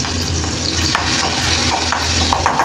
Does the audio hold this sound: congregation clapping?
no